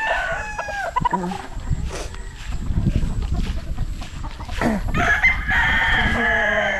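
Backyard chickens crow loudly and repeatedly, with a rooster's long cock-a-doodle-doo calls rising over steady clucking from the flock, close by and with no talk.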